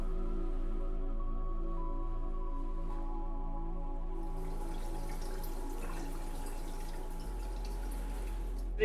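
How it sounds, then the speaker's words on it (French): Tap water pouring into a crayfish aquarium, a steady splashing trickle over a constant low hum that grows brighter and noisier partway through, with no talking. "on va remplir clairement à la grosse eau du robinet,"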